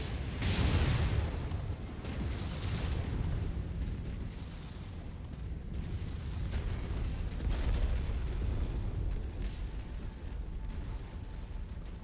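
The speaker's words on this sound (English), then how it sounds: "Explosion detected." Explosions rumble through a MechWarrior 5 Mercenaries battle, a dense, continuous roar of booms and heavy blasts that swells and eases over twelve seconds with no clear breaks.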